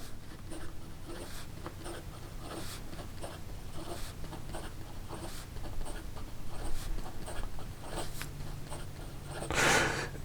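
A Platinum 3776 Carnelian fountain pen with fairly dry ink moves quickly across paper, making faint, close scratchy strokes in short bursts, with a brief louder rustle near the end.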